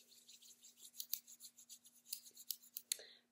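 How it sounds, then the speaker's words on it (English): Palms rubbing together after rolling on an essential oil roller blend, giving a close, quiet run of rapid dry swishing strokes with no talk. "roll it on the palm of your hand, rub those hands together,"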